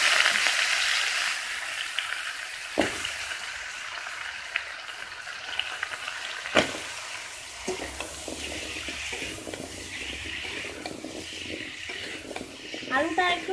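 Potatoes dropped into a pan of fried onions, a steady low sizzle with a few sharp clatters and stirring scrapes, faint voices in the background.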